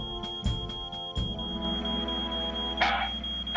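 A beeping alarm in a Fireman Sam cartoon, a steady high electronic tone with sharp repeated pulses and bursts, over a background music bed.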